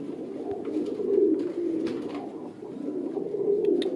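A breeder pigeon coos in repeated low, throaty phrases, close and moderately loud against a quiet background, with no talking.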